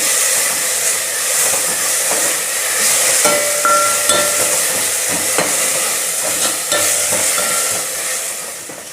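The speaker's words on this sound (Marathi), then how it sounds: "थोडंसं 1 मिनिट आता बटाटा तेलावर फ्राय करून घेणार आहे" Potato pieces frying in hot oil in a pan, a steady loud hiss and sizzle running throughout with a few faint clinks of utensils.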